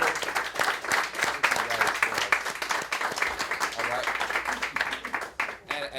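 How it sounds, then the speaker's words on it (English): An audience at a poetry event applauds, dense continuous clapping from a crowd lasting the whole stretch, with a voice mixed in beneath. "One more round of applause for everybody that made this possible."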